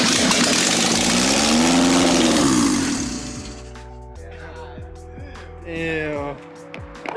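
A Nissan 240SX with a fuel leak cranks and catches after ten months sitting, a loud rough engine roar that drops into an uneven idle, while people talk nearby.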